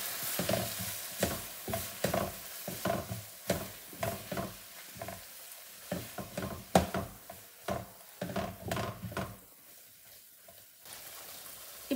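Methi paneer bhurji of grated paneer and fenugreek leaves being stirred in a pan, a spoon scraping in quick irregular strokes over a steady close sizzle that fades near the end.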